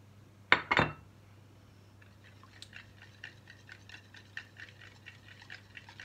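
Egg and sunflower oil being whisked with a fork in a bowl for a spinach börek: a couple of sharp clinks against the bowl, then a fast, light, regular tapping and scraping rhythm, close and quiet with no talking.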